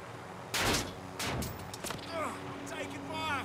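Bursts of gunfire in the Call of Duty Warzone video game, a few loud cracking shots close by, with players talking over the game audio.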